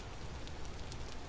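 Soft, steady rain patters in the Vintage Story video game, a faint, even hiss of drops with no voices.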